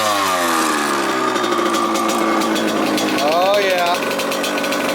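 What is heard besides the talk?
Kawasaki KX100 two-stroke dirt bike kick-started, engine revving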